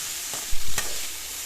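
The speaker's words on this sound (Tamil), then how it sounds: "கோஸ் போட்டு வதக்கிக்கலாம்" Shredded cabbage sautéing in a pan with garlic, a brief close scrape of a spatula and a short hiss over a soft background sizzle.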